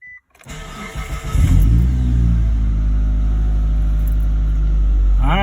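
A 2006–2012 Mitsubishi Eclipse GS engine cranks briefly, then catches and settles into a loud, steady idle rumble close by.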